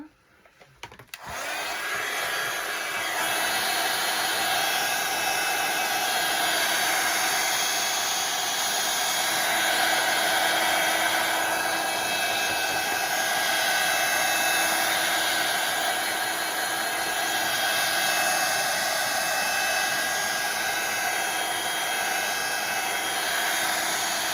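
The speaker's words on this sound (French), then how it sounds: "Je vais l'accélérer avec le heat gun, comme d'habitude." A heat gun blows continuously to dry paint on an art collage, a loud, steady roaring whoosh that starts abruptly and holds for over twenty seconds, close up with no talk.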